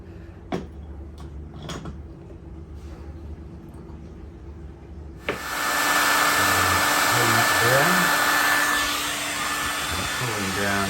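A hot air blower starts abruptly partway through, a steady loud whooshing roar warming the cover of a Begode Extreme electric unicycle wheel during a tyre and bearing change, after a few quiet clicks and handling sounds.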